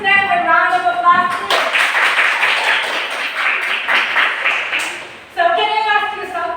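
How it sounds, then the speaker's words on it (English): A burst of clapping from a classroom group after a presentation, lasting several seconds and fairly loud, with voices before and after it. "Let us give them a round of applause."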